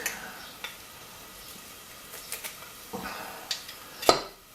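Garlic hitting a hot pan of oil where meatballs for tomato sauce will cook, giving a soft steady sizzle with scattered clinks and scrapes of utensils against the pan.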